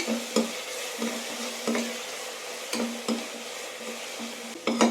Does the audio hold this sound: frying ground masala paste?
yes